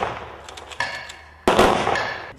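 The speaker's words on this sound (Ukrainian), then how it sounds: "А потім звучить військовий салют." A military gun salute volley fires at a memorial ceremony in a village, two loud sharp bursts ringing out in sequence with echoing decay after each.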